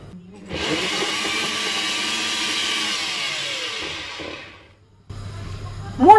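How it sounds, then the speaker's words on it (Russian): Blender grinds frozen oranges for homemade juice and jam, a loud steady whir lasting about four seconds that then winds down, followed by a brief lower motor hum and a clatter at the end. "я пробую в блендере"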